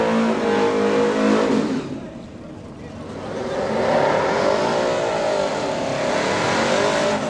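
Drag race cars, including a Mustang, roaring off the line side by side at a heads-up drag racing event, loud engine howl that dips briefly then surges again as they accelerate away, with a distant announcer voice faintly under the noise.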